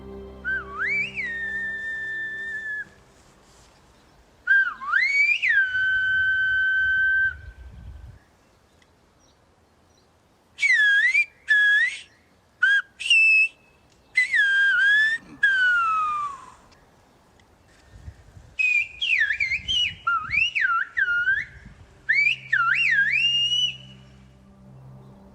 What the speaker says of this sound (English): The whistling language probably survived on La Gomera